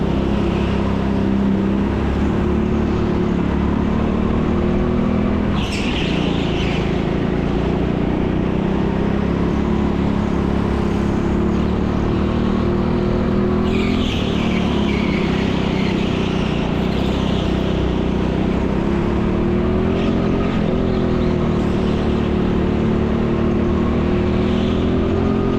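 Go-kart engines race around the TeamSport Leicester indoor track during a public session. A loud, continuous droning whine rises and falls with the revs, and karts surge closer around six and fourteen seconds.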